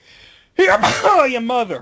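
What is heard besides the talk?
sneeze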